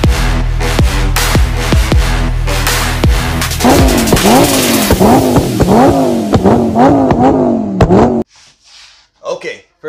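Lamborghini Gallardo engine being warmed up for an oil change, first a steady loud idle, then a series of rhythmic repeated revs rising and falling for several seconds before cutting off abruptly, with faint sounds after.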